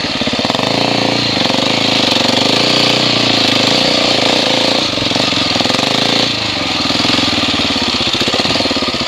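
A 2017 Husqvarna 701 Enduro motorcycle's single-cylinder engine chugs at low revs off-road, a loud, steady, close-miked throb with rough pulsing and wind buffeting, no talking over it.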